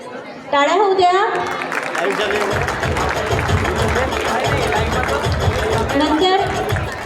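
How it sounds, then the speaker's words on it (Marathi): Audience at a school alumni gathering clapping, a dense burst of applause that starts abruptly and holds steady over crowd chatter and loud voices. "टाळ्या होऊ द्या."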